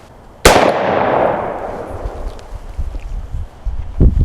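A single loud close gunshot from a .410 handgun firing a Winchester Super X shotshell with three pellets, sharp crack followed by a long decaying echo, then faint handling knocks.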